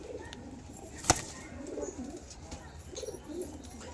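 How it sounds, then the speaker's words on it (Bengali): Rampuri pigeons cooing softly in a loft, low repeated coos at a modest distance with a sharp brief click or flutter partway through and faint background noise. "খুবই ছটপটে পায়রা"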